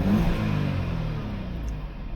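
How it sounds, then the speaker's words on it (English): An Audi A5 1.8 TFSI engine idles with a low, even hum and faint mechanical rumble, heard fairly close and steady, with no one speaking. "It's idling all right."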